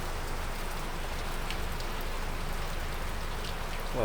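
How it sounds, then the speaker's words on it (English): Heavy rain pours down in a dense, steady downpour in a seaside city in Northern Cyprus, a constant close hiss of drops drumming on surfaces throughout, with no voices. "That's one crazy downpour."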